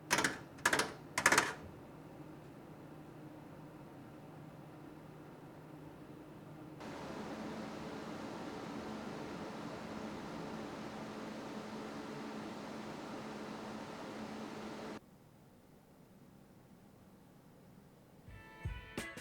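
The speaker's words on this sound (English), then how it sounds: "these fans produce a very pleasant, loud profile" Steady whooshing fan noise rises to a louder, fuller roar for several seconds, then drops back to a quiet hum, with a few clicks at the start and end.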